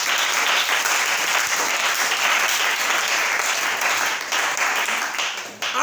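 A church congregation at an evangelical service applauds to acclaim the Lord, a dense, loud, continuous wash of clapping from many people that holds steady throughout.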